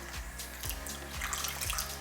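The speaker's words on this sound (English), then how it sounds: "Pour a half a cup of water." Half a cup of water poured in a kitchen while making candy grapes, a soft, continuous trickle heard close up and fairly quiet.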